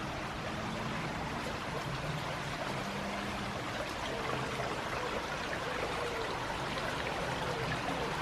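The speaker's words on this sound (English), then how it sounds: "And joins that bit of the brook, which then goes under the stone bridge." A brook runs toward a stone bridge, a steady broadband babbling rush of water with no pauses and faint low hum beneath, heard close and without talking.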